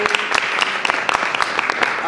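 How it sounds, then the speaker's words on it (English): Round of applause from an audience at a business-of-the-arts industry workshop, a steady dense patter of clapping with sharper individual claps standing out throughout, and voices mixed in under it. "Can you just give yourselves a round of applause"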